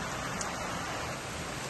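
Steady rain falls outdoors, a dense, even hiss of drops that is moderately loud and continuous with no voices.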